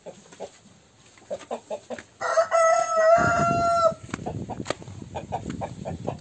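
A rooster crows loudly in the middle, with scattered hen clucks and farmyard rustling before and after.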